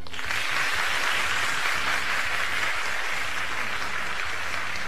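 A television studio audience on a live variety show claps steadily for a contestant, a dense sustained burst throughout with faint low voices beneath.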